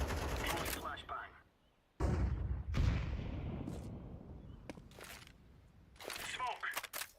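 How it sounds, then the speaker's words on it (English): Counter-Strike flashbang grenade thrown during a match: sharp bursts and loud bangs, with gunfire crackling around them and a quieter gap between. Talking can be heard in parts. "Throwing flashbang."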